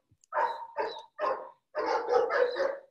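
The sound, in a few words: dog barking from a nearby kennel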